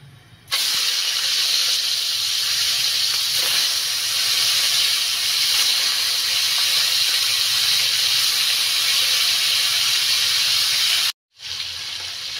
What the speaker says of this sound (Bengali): এখন আমি মাছগুলোকে ভেজে নেব